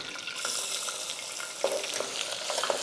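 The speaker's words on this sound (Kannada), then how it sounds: "ಕರಿಬೇವಿನ ಸೊಪ್ಪು ಆಗಿದ ತಕ್ಷಣ ಈರುಳ್ಳಿ ಹಾಕ್ಕೊಳ್ಳಿ" Onions frying with curry leaves in a pan: a soft, continuous sizzle with light stirring scrapes and small crackles, fairly quiet and close, with no talking.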